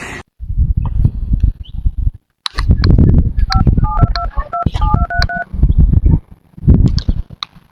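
A landline telephone being dialed in a rural Awadhi home, a quick run of dual-tone keypad beeps in uneven succession heard close and clear, with people talking loudly before and after.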